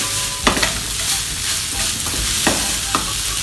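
Coriander fried rice with chicken being stirred in a pan, a spatula scraping in several distinct strokes over a steady close sizzle, with no talking.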